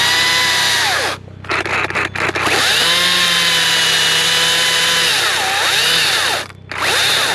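A chainsaw cutting into an oak tree beside a house, loud and close, revving high with a steady whine, dropping briefly twice and then resuming cutting.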